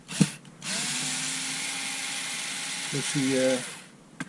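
A Prostormer cordless electric ratchet wrench whirs steadily while backing out screws, with a pitch shift and ratcheting near the end, framed by short clicks at the start and finish.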